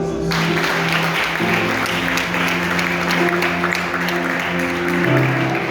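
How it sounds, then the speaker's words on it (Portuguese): A church congregation claps together, a dense, steady round of applause that carries for several seconds, with a sustained tonal hum from the sound system running underneath. "Vamos dar uma salva de palmas."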